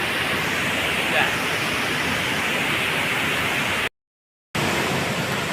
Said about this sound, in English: Watching the waterfall.